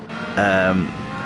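A Honda F1 race car engine in the video game Gran Turismo 7 revs up with a harmonic whine, rising briefly then settling into a steady drone over continuous background rumble.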